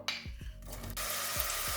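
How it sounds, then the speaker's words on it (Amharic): Onions hitting hot oil for an Ethiopian cauliflower stew, a steady loud sizzle rising after a few scraping stirs, close up with no talking. "ሽንኩርቴን በዘይቱ ጠብሳለሁ።"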